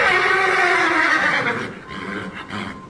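A horse neighs loudly and close by, a long wavering whinny that trails off, followed by a softer second call.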